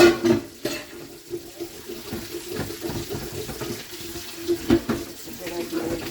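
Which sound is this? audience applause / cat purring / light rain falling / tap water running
tap water running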